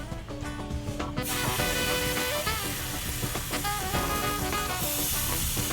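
Raw bacon strips, torn in half, sizzling in a pan with a steady close hiss that swells after the first second, while soft music plays underneath.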